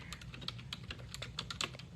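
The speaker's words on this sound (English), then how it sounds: "Typing is hard work when you switch between 3 different devices throughout the day." Rapid, uneven keystrokes clatter on a computer keyboard, close and fairly steady across two seconds, with sharper taps standing out here and there and no voices.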